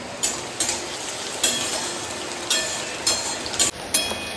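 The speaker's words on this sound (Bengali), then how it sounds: "দেখো আমি পেঁয়াজ ভাজা বসিয়ে দিয়ে চলে গেছিলাম" Onions fry in a pan on a home stove, a continuous close hiss of oil with several sharp clinks and scrapes of a spatula at irregular intervals, no voices.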